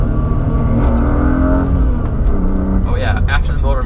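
A car with new motor mounts fitted accelerates hard from inside, engine droning loudly and rising, then a shift changes the pitch before revs climb again.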